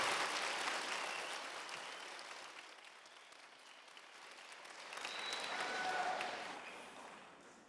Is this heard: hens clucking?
no